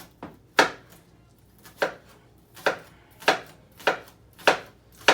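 An onion being chopped with a knife on a cutting board: about nine crisp, evenly paced chops in a loose rhythm, each a sharp close knock, alone with no talking.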